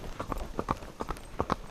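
Hooves of a ridden horse clip-clop in a steady walking rhythm on a road near a Baptist church, close and distinct with paired strikes, alone without talk.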